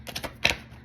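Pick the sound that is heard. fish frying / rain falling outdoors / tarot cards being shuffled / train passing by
tarot cards being shuffled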